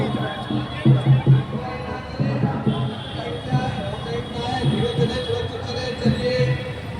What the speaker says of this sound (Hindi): कितनी भीड़ हो रही है